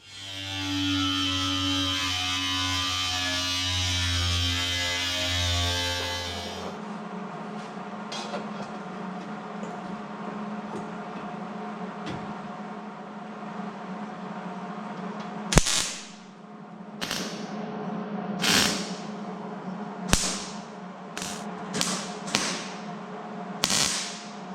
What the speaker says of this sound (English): Got both cab corners welded in.